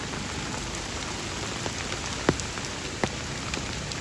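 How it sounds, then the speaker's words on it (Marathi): Heavy monsoon rain falls on a Konkan village, a dense, even roar of drops on surfaces with a couple of sharper close drips standing out, and no one speaking. "पण पाऊस जास्त लागलो आहे."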